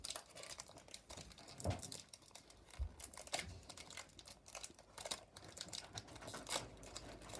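Plastic packaging of Pokémon card mini tins crinkles and rustles up close in irregular bursts, with a few sharper tearing sounds mixed in.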